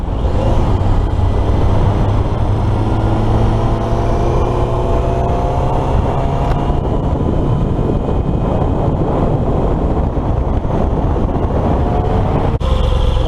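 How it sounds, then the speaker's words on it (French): A sport motorcycle engine and its airbox intake roar loudly and steadily, with rising tones as the revs climb. Wind noise runs throughout and no one speaks. "Il y a un bon son au niveau de la boîte à air."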